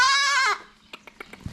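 A farm goat bawls in one long, loud, wavering bleat up close, then a few soft clicks and small knocks follow in a quiet barn.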